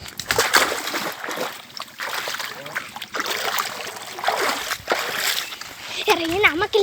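A person wades into a shallow river, water splashing and sloshing in repeated bursts close by while a voice talks over it.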